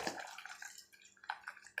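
Water is poured into a village-style avrekalu upsaru, a field-bean curry, with a quiet splashing trickle and a few soft drips close by.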